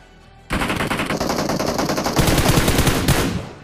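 Rapid automatic gunfire from the battle-royale game BGMI, a sustained loud burst of close shots starting abruptly after a brief silence and running steadily, growing denser before tapering off at the end.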